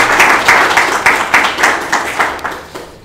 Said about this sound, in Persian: خواهش میکنم تشویقشون بفرمایید.